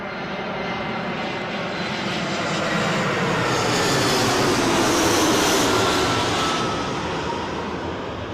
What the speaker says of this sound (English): we've got inbound EasyJet on finals